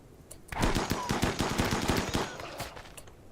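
Rapid bursts of gunfire fill a RimWorld battle, dense overlapping automatic shots rattling in quick succession for about two seconds before thinning into scattered reports.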